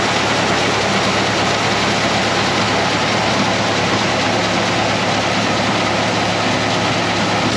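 A heavy tractor engine drones steadily and loudly throughout, a low rumbling mechanical roar with no voices.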